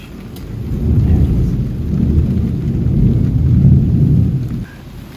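Loud rolling thunder rumbles low and continuously over a steady hiss of falling rain, swelling and fading before cutting off near the end, with no voices.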